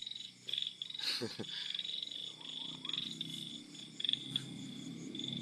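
Frogs croaking at night in rural fields, a steady chorus of small croaks with a high insect drone throughout, a few louder nearby croaks and soft rustling, no talking.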